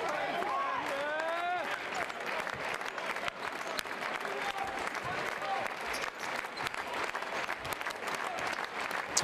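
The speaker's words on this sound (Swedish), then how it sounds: "Ja, nu har de snart stått upp i 2 minuter och applåderat." Spectators at a Jämtland versus Borås basketball game keep up loud, continuous standing applause with scattered cheers and sneaker squeaks from the court, while a commentator speaks over it.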